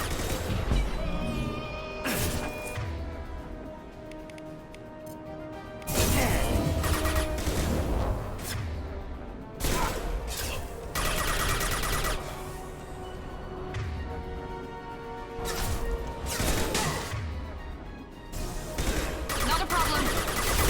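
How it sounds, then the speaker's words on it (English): A concussive shot and rapid gunfire in Mass Effect 2 come as repeated loud bursts and crashes with short gaps between them, and voices talk over parts of the fighting. "Firing concussive shot"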